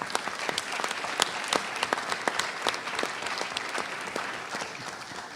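An audience applauds at the close of an event, a sustained crowd clapping with distinct sharp individual claps standing out, steady and fairly close.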